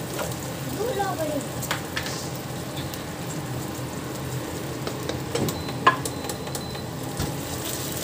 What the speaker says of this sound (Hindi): बस मैं थोड़ा सॉटे कर लूँगी इसको।